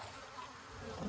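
Honey bees at the hive as the outer cover is eased on give a steady, close, continuous hum with no break across the short stretch.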